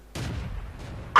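A tank cannon firing high-explosive rounds in the World of Tanks video game: a low rumbling boom that fades, then a sharp, loud shot right at the end.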